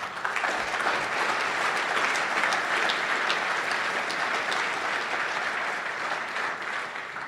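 Loud, sustained audience applause at a Kentucky higher-education trustees conference, a dense, continuous roar of many people clapping together that tapers slightly near the end, with no speech over it.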